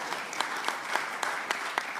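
Audience at an Indonesian political event for the 2024 presidential and vice-presidential candidates breaks into steady, dense applause, a continuous wash of clapping with a few sharper claps standing out, fairly distant and without speech.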